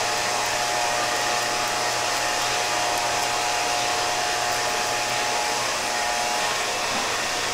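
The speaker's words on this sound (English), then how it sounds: "So this is like really important to use the corner of your clipper." An electric hair clipper trims a beard during a haircut, giving off a loud, steady close-up buzz that holds unbroken from start to finish.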